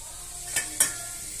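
Frozen snacks frying in oil in a pan beside leftover beef curry, a soft continuous sizzle broken by two sharp utensil clinks close by, no talking.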